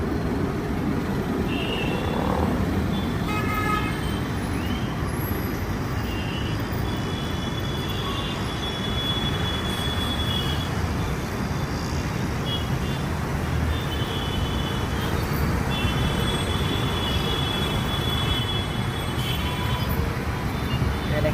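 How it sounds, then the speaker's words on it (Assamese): A metro train passes overhead above jammed road traffic in Porur, Chennai, a loud, steady rumble that fills the whole stretch and blends with the roar of the road. "ওপৰত মেট্ৰ' ট্ৰেইন"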